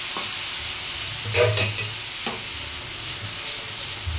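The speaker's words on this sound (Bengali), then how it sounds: "এই টমেটোটা এবার আমি তেলটার মধ্যে একটু কষে নেব" Tomato being stirred and fried in hot oil, a soft steady sizzle with a couple of brief scraping stirs and light clinks.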